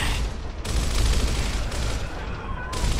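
Sustained rapid gunfire from the video game Gears of War on Insane difficulty, a dense, loud, continuous fusillade with a few brief dips, close and overpowering for the whole stretch.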